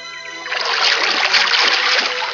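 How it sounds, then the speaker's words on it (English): A duckling jumps into water in a storybook tale, giving a sustained broadband splash and splatter that lasts a couple of seconds, loud and close, with no talk over it. "He jumped into the water"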